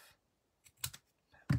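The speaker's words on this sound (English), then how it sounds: "And then we'll snip that off." Scissors snip card stock during card making: a few short, crisp, quiet cuts with silence between them, ending in a sharper snip.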